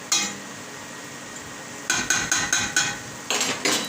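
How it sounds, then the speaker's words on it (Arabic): Metal spoon pressing and breaking up minced meat in a pan, a burst of sharp, rhythmic knocks and scrapes against the pan, close and clear, after a quieter stretch with one early tap. "تضغطي على اللحمه كده عشان تفك من بعضها"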